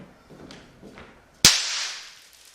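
A Big Snaps snap firecracker pops once, giving a single sharp loud crack with a short decaying tail. Two faint soft taps come before it.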